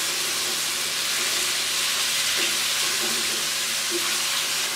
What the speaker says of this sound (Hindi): मीडियम आंच पे हम इसको फ्राई करेंगे